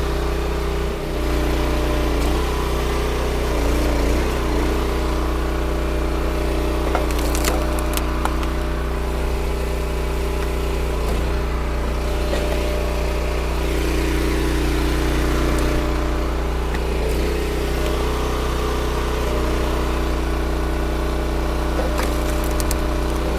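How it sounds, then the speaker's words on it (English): Engine-driven log splitter working through green black birch firewood, with a steady droning engine hum throughout and occasional wood cracks and creaks as splits pop apart, close and loud. "shut the splitter down for a minute, see where we're at"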